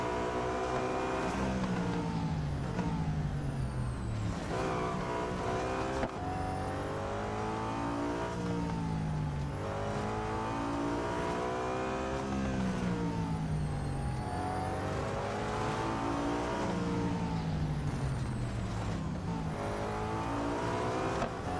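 Race cars roar through gear changes in the racing game Real Racing 3, engine pitch climbing and dropping in repeated cycles, loud and continuous with a rival car passing now and then.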